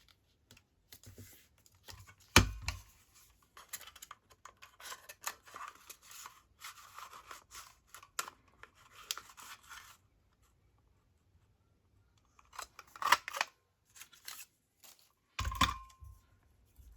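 Scissors cutting book-page paper for a journal folder, quiet crisp snips in short bursts separated by pauses, with a couple of louder handling thumps.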